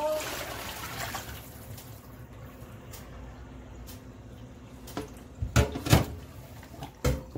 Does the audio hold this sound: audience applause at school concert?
no